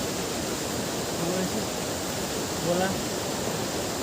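The Kolung waterfall in Morang, with streams running across the path, makes a steady, rushing roar of falling water that fills the air without a break, faint voices barely surfacing beneath it.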